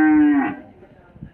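A cow moos once in a modern integrated cattle barn, a single loud, close bellow that falls in pitch and fades into faint barn background.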